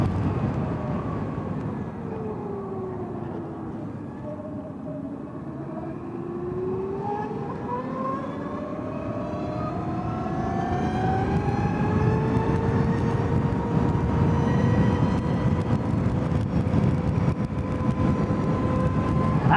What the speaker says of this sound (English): It's gonna get regenerative braking.